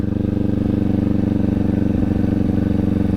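A motorcycle engine chugs at low revs as the bike stops without the clutch pulled in. A loud, close, rapid and evenly pulsing exhaust beat continues throughout.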